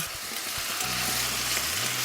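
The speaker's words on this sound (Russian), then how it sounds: "Добавляю капусту. Дам капусте протушиться минуты 3-4, чтобы она немного стала мягче." Young cabbage stews and sizzles in a pan, giving a constant close frying hiss that stays steady throughout, with no talking.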